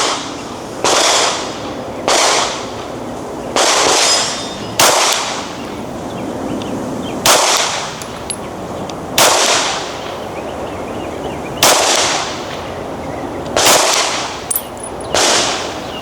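Eight sharp gunshots from a CZ P10C ported pistol ring out at uneven intervals, each a loud close crack with a brief ringing tail over quiet outdoor background.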